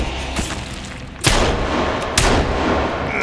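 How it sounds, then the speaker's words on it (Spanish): Two sharp pistol shots fired in the survival game Sons of the Forest, loud and close, about a second apart over a steady background rumble of game ambience. "Tres disparos en la cabeza bastan para que se muera, Omega."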